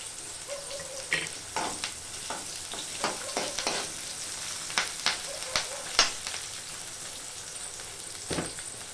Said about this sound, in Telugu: కొంచెం కరివేపాకు వేసేస్తున్నాం.